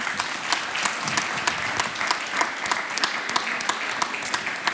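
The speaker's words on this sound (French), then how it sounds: "merci beaucoup, on peut les applaudir" A room full of people at a geothermal and heat pump forum applauds steadily, dense clapping holding at an even level throughout with no voices over it.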